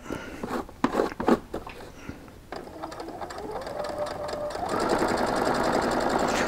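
A sewing machine stitching a weighted blanket quilt runs close and clear, first in short uneven bursts with pauses, then settling into a steady, even whir that builds slightly and holds to the end.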